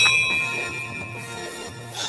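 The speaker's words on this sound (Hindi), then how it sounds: "तभी अचानक मंदिर की घंटी बजी" A temple bell rings with sustained, bright metallic tones that hang and slowly decay, fairly loud and steady throughout, with no voices.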